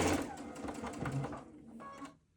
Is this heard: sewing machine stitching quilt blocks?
yes